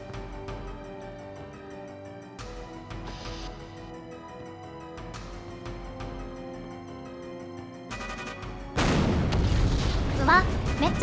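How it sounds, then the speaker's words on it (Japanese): Explosions in the N64 video game 007 The World Is Not Enough, booming over steady game music, with a louder burst of blasts in the final seconds. "うわ、めっちゃ爆発してる。"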